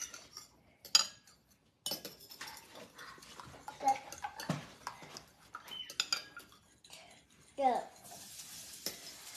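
Cooked ampalaya (bitter gourd) being stirred in a pan, with repeated metal utensil clinks and scraping that come in bursts, mixed with faint background voices.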